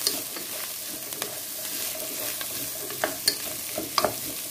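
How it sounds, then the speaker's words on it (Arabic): Soft sizzling of flour frying in a pot for lentil soup, with intermittent scraping and clinking as a utensil stirs it. "دابا بغيت نحمر داك الطحين ها في الشكوك"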